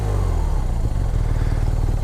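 A flat-twin police motorcycle engine revs hard and steadily, loud and close, with a throbbing low rumble and some mechanical clatter throughout and no talk.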